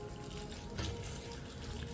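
Water poured from a tap or jug into a cooking pot of meat for bitter leaf soup, a steady close splashing fill with a brief louder gush partway through.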